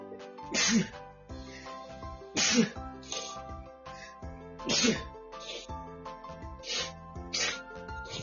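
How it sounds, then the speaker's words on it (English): A series of loud, explosive sneezes, about six in a row, each a sharp burst spaced a second or two apart, close to the microphone with background sound underneath. "Seems like I got hit by a tiff of sneezing."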